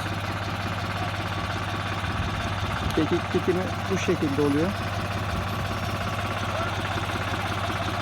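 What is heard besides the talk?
tractor engine in creeper gear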